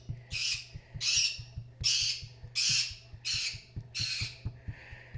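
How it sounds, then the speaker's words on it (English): A bird squawks loudly and harshly about seven times in a steady rhythm, close by, with a regular low ticking underneath. "Boy, that bird is loud today."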